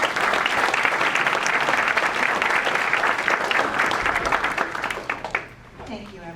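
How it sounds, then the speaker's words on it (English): A school auditorium audience at a high school curriculum night breaks into steady, dense applause that runs for several seconds, then thins out and fades as a voice begins speaking. "So could we please give him a round of applause?"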